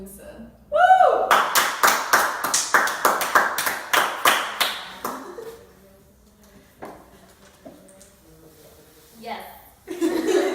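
A small group gives rhythmic, evenly spaced claps to welcome a guest presenting as Mansa Musa, after a short whoop. The claps stop after a few seconds, followed by chuckles and scattered noises.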